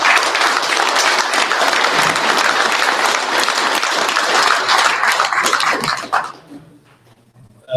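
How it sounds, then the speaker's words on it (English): Crowd at the Drag & Drive Awards, a drag racing event presented by Summit Racing at PRI 2025, breaks into loud sustained applause in an indoor room, the clapping thinning and fading out over the last couple of seconds. "give yourselves a round of applause"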